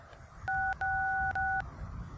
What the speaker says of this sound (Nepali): फोन गरिहाल्नु पऱ्यो